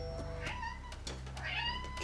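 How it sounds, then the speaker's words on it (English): A house cat meows several times in a row, close and clear, over a quiet indoor background during a music mixing session. "Cat thought I was talking to her."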